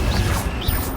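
Confringo blast spell cast in Hogwarts Legacy, a loud, dense burst of crashing, whooshing energy with two swelling swishes across one second, no talk.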